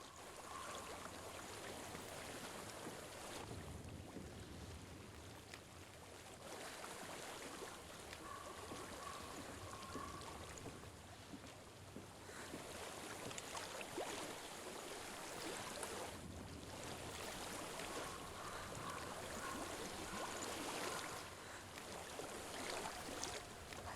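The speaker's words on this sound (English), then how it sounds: "I hear water. Go to it." Flowing stream water in the dark fantasy game Hellblade: Senua's Sacrifice, a steady rushing babble running throughout at moderate distance, with no talking.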